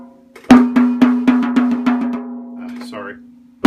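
A tom drum played in quick repeated strokes, about ten sharp hits in a steady triplet-like rhythm over roughly two seconds, close and fairly loud, with a ringing pitched tone sustained under the strokes and one more hit at the end.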